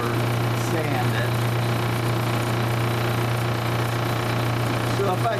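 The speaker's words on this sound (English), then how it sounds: "It's a 600 grit wheel." A 600 grit sanding wheel runs while a cabochon is sanded, giving a steady, continuous motor drone with a faint grinding rasp and no clear break.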